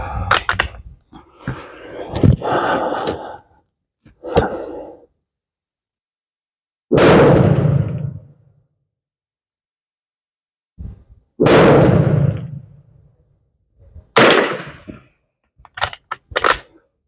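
Shots from a .22 caliber WZ48 Polish training rifle outdoors: three sharp cracks spaced several seconds apart, each with a short decaying tail, followed by a few lighter clicks and handling noises.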